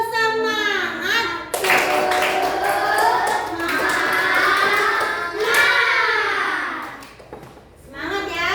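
Children join in a rhythmic 'tepuk semangat' spirit clap: a steady run of close group hand claps lasting several seconds, mixed with chanting voices and followed by talking.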